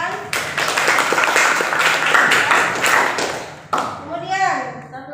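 Applause from a classroom of students during a mathematics lesson, a burst of clapping lasting over three seconds, followed by a voice speaking.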